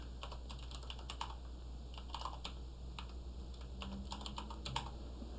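Quick, close keystrokes on a computer keyboard in irregular bursts and pauses over a steady low hum while code is being typed, with no voices.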